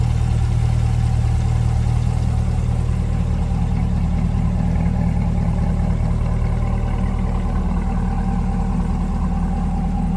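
A 6.2-litre V8 in a mid-engine 2022 Chevrolet Corvette Stingray C8 coupe idles steadily and loud from close by, a deep constant rumble with no voices over it.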